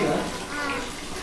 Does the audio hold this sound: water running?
yes